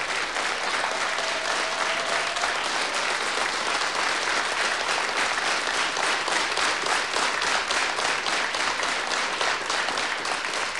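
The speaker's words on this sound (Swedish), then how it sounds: "Stora applåder naturligtvis." A large crowd applauds steadily and loudly, dense clapping sustained throughout without letting up.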